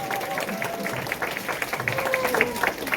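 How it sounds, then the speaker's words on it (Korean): Scattered applause from an audience at a Nu Skin business presentation in Busan, with voices and crowd murmur mixed in at a steady, moderate level. "근데 박수를 치실 건 제대로 시작해주시고"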